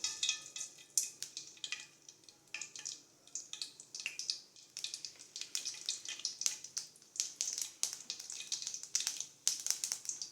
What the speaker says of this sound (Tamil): காஞ்ச உடனே நம்ம கடுகு போட்டு பொரிச்சுக்கலாம்